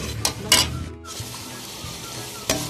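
Turmeric and tomato paste are stirred into a spice masala in a karahi, with a steady frying sizzle broken by a few sharp scraping strokes of the spoon against the pan.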